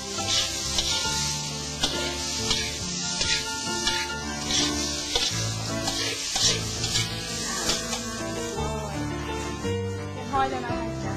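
Food fries in a pan for a Lao cooking dish, a dense, continuous sizzle with crackling pops and occasional stirring clatter, fairly loud and close throughout.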